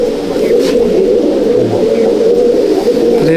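Held in the hand, an Andhra pigeon coos steadily and close, a loud, continuous throaty murmur with faint loft bird sounds behind and little talk.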